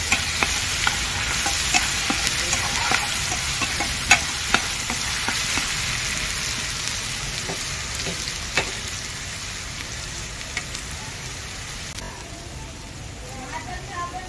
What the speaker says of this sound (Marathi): कांदा वाटून घेतला तो टाकूया।